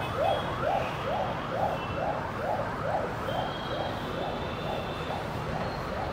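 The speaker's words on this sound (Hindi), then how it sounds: "एम्बुलेंस भी जा रहा है," An ambulance siren wails along a busy city street near a church in Bangalore, a steady rising and falling cycle repeating about twice a second over traffic noise, fairly close and clear.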